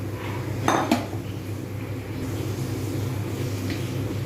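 Soaked red lentils added to a pot of water in a home kitchen: a couple of sharp metallic clanks of utensil against pot early on, over a steady low background hum.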